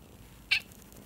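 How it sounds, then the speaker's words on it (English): A single short cat meow rings out once, clear and fairly close, over a quiet room background. "Sorry, that was my cat."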